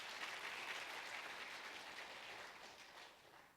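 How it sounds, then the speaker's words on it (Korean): A Korean church congregation during a Sunday service claps together for its deaconesses, a short burst of many hands that sounds faint and somewhat distant and fades toward the end. "우리 권사님들 박수 한번 쳐주시겠어요?"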